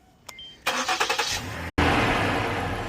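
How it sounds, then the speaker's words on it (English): A 2013 Ford Edge Sport engine starts up close by: a short run of rhythmic cranking pulses, a brief break, then the engine catches and settles into a loud, steady idle roar. "So now we start the car"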